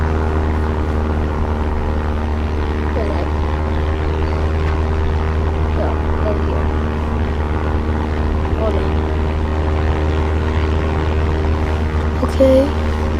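Airplane engine in a flight simulator game, a steady droning hum with tonal layers, constant and moderately loud throughout, with no speech.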